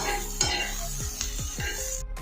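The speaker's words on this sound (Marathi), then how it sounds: "आपण तेलामध्ये लालसर भाजायचं चांगला कांदा" Onion frying in oil until reddish, a constant sizzle with several distinct scraping stirs of a metal spatula against the pan, close and clear with no voices.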